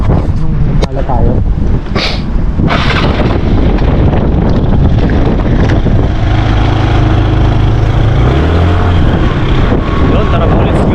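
Strong seaside wind buffets the microphone in a continuous heavy roar, loud and close, with a low engine-like drone partway through and a voice speaking under the gusts.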